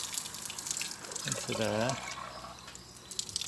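Water is poured into an engine block, running in on the exhaust side until it fills. The faint trickle and splash sit under a voice.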